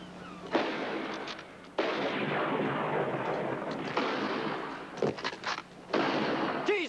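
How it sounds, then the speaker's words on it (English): Bursts of gunfire in a shootout crack out in several separate volleys, each a sharp, loud blast of noise over about seven seconds, with a few short, rapid shots near the end. "I'm shooting a warning shot. No response, we shoot to kill."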